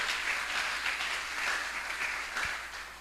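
A church congregation breaks into sustained, lively applause, a dense wash of many hands clapping that swells and eases slightly across the span.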